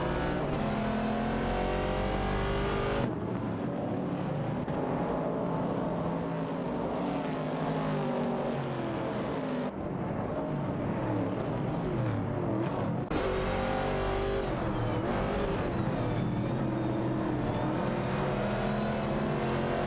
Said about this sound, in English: in another Dart, and Matsu Inc. in the Chevrolet Camaro 69 are fiercely competing for the 14th position.